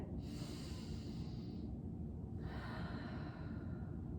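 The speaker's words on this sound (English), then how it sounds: "take a deep breath in. So breathe with me" Two slow, deep breaths in and out during a prenatal stretch for the seventh month of pregnancy, soft and close with breathy hiss, the first inhale long and steady, a pause, then a second breath alone with no talk.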